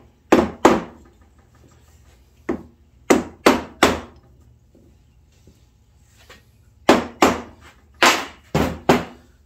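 Hammer with a plastic or fiberglass handle striking an engine part during a piston-failure rebuild of a Suzuki LT250R four-wheeler; about a dozen sharp, close, loud knocks come in quick bursts of two or three, with quiet gaps between.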